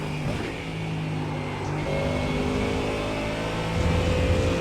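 Ford Mustang GT3 race car engine lapping Road America, a loud steady drone that climbs in pitch as the car accelerates, close and continuous with no talk.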